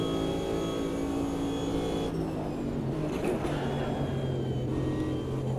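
A Corvette GTP Group C race car in Automobilista 2 at 1970 Spa drones with a steady engine hum that shifts pitch midway, loud and unbroken with no voices.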